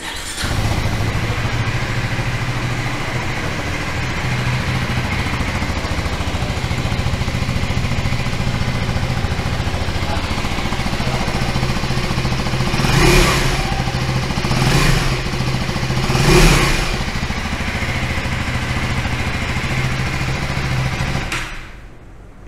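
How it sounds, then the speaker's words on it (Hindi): A 2025 KTM Duke 390 single-cylinder motorcycle starts up and settles into a steady, close idle, with three brief throttle blips partway through before the engine cuts off. "अब मैं आपको इसका साउंड सुना देता हूं कि साउंड जो है इस मोटरसाइकिल में वो कैसा है।"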